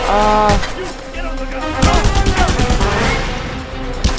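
Rapid bursts of gunfire from the Just Cause 2 video game, loud and close, with a droning tone at the start giving way to dense volleys of shots that continue to the end.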